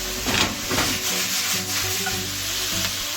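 Chayote and red and yellow peppers are stirred in a hot pan with onions and garlic, a spoon scraping and rubbing over steady sizzling. Close and alone, with no voices.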